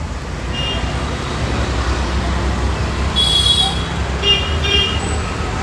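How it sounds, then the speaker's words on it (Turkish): A bus moves through busy street traffic with a steady roadway rumble, and two short horn toots ring out near the end over the continuous engine and tyre noise. "Arkada otobüs var."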